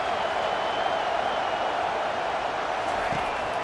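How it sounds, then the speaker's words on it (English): A college football video game stadium crowd roars in a steady, dense wall of cheering throughout the USC vs UCLA game, with no breaks in the noise. "Listen to this crowd just shaking the girders of this place"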